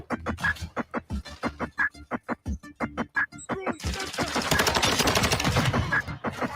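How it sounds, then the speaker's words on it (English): Rapid gunfire in a video game, a rhythmic string of loud single shots followed by a dense sustained burst of automatic fire, close and sharp. "Oh my god, I love this gun. Triple headshot."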